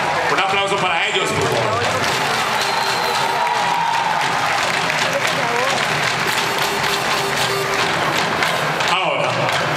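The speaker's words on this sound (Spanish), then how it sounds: "Un aplauso para ellos." Audience applause and crowd noise fill a resort stage show in Punta Cana, Dominican Republic, steady and loud throughout with a host's voice and cheering mixed over the clapping.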